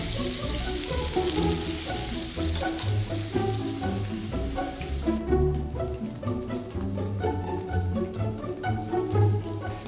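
Beef with garlic sizzles and fries in a pan, a dense crackling hiss with spattering pops that continues steadily throughout, close and without talk.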